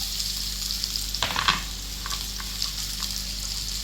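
Garlic sizzling in a frying pan after the onions, a loud, continuous crackling fry close up with a brief stirring scrape partway through.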